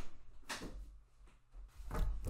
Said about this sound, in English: my damn door's ringing, I have to open the damn door.